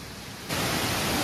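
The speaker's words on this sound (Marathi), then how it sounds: "खूपच घनदाट जंगलामध्ये वाळ आहे आणि धबधबा आहे।" Roaring broadband rush of high-pressure water from a waterfall deep in dense forest, steady and loud, jumping suddenly louder halfway through as if moving closer.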